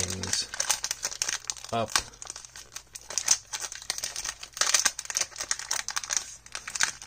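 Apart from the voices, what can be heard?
opening 1992 Topps football card pack wrapper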